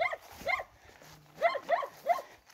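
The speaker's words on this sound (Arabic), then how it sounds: "سمعتي الكلب" Dog barking outdoors in open farmland on the plains near Rabat, a series of clear barks in uneven clusters, moderately near, with no talk over it.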